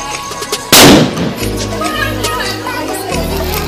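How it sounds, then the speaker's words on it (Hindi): An aloo bomb firecracker explodes outdoors during a Diwali celebration in a village. It gives one loud, sharp blast with a short rumbling tail, while voices and background bustle continue around it. "हरियो हरियो मोटा वाला आलू बम।"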